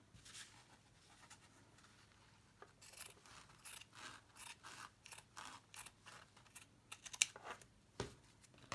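Scissors snip through fabric while base layers for an all-fabric journal are being made, giving a quiet, steady run of close crisp cuts with no talking.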